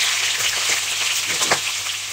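Pork adobo fries in a non-stick pan with a steady, close, bright sizzling hiss and a few faint pops, no talking.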